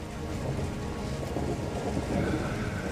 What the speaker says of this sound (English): Is it raining inside?